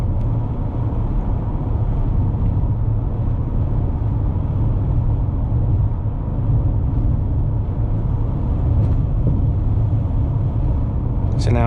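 A 2020 Toyota Highlander cruising on the road at highway speed, heard as a continuous, loud low rumble of engine, tires and wind that stays even from start to finish.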